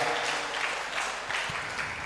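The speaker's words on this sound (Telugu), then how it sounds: "గట్టిగా చప్పట్లు కొట్టి గట్టి కొట్టాలి." A church congregation claps loudly during a sermon, a steady dense patter of many hands with a few sharper claps standing out, fairly close and continuous throughout.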